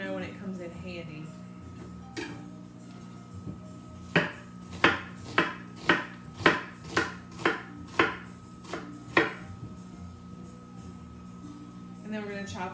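Fresh onion chopped with a knife on a board, a quick run of about ten crisp, evenly spaced thuds, with someone speaking over a steady kitchen hum before and after.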